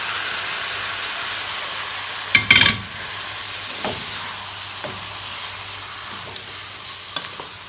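Chunks of cooked rabbit meat for a rabbit roast fry in a pan with a steady sizzling hiss. A clattering burst near the start marks the meat going in, then soft scrapes and taps follow as it is stirred.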